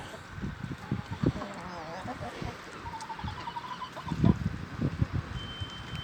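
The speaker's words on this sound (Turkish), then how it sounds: "Değişik değişik tavuklar var gördüğünüz gibi" Assorted breeds of chickens in a backyard coop cluck and call in short irregular bursts close by, with someone talking over them.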